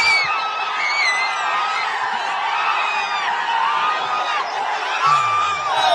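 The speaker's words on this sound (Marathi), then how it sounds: "हा जल्लोष आहे." A large outdoor crowd celebrates India's T20 World Cup final win, with continuous cheering, whoops and shouts that stay dense and loud throughout, and no clear speech.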